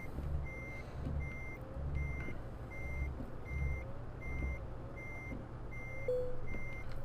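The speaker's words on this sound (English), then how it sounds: "this should be a fairly easy back-in standard trailer" Regular reversing beeps from a Volvo FH16 truck backing a standard trailer in Euro Truck Simulator 2, steady evenly spaced electronic tones over a low engine rumble with faint air-brake hisses.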